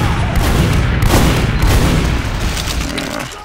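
Loud, dense bursts of gunfire in an online shooter match, rapid overlapping shots and booms filling the whole stretch without pause, near and intense.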